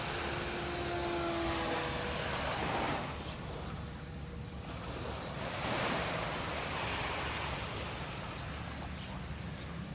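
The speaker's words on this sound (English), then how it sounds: "We got somebody out here with the remote control plane." A remote control plane flies over a wet sand beach at Chao Samran, Thailand, its thin motor whine drifting in and out over steady surf and wind noise, with no talk.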